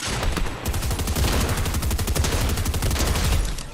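Rapid shotgun gunfire in Fortnite, a dense run of sharp blasts fired in quick succession for several seconds, loud and close with no talking over it.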